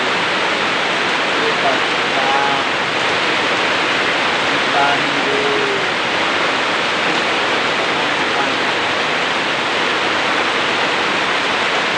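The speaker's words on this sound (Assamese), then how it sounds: "এতিয়া বৰষুণ আহি আছে কিন্তু ওলাব পৰা নাই বৰষুণ আহি আছে" Heavy rain falls in a continuous broadband hiss that holds steady throughout, with a few faint traces of voice underneath.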